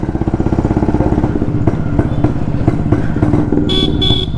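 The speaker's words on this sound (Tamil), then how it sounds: "வாவ், என்ன ஒரு ஹார்ன்." A loud horn on a vintage Jawa Yezdi D250 Classic two-stroke motorcycle honks in steady repeated bursts over its idling engine, ending with a brighter, higher toot.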